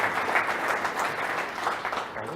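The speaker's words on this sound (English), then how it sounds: "Give him a round of applause for volunteering." Onlookers clap for a volunteer who has stepped forward at a live talk. The applause is a close, continuous patter that holds steady throughout and fades slightly at the end.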